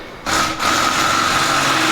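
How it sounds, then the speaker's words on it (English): A Corvette Stingray engine with an MBRP exhaust, catless, surges from a quieter idle into a loud, sustained high rev with a steady droning tone, close and unmuffled. "This fucking exhaust system doesn't muffle anything"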